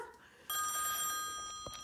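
A telephone rings with one sustained bright electronic trill that starts abruptly and holds, close and fairly loud, over a quiet background.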